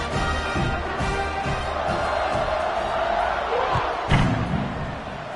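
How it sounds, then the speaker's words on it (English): A stadium crowd at an FAU at Army college football game, a dense, distant roar of cheering with repeated thumping beats and a sharp slam near the end, with no clear speech. "this crowd is feeling themselves after that last drive"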